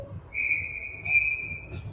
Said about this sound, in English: Now there's a whole bunch of whistles going.